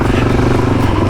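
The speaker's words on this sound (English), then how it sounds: "I'm just taking the Suzuki out for a bit of a ride. If you've forgotten, it's a DRZ 400." A Suzuki DRZ 400 dual-sport motorcycle out on a ride, its engine a loud, steady close-up drone with rough low rumble and wind buffeting throughout.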